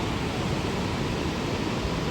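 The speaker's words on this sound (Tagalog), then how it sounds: "Medyo malakas yung alon." Strong ocean waves at Santa Monica Beach, California, give a steady, rushing wash of surf, dense and unbroken for a couple of seconds with no talk.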